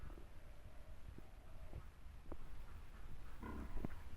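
Pigs on a pig farm grunt and snuffle faintly in short scattered bursts over a steady low background rumble.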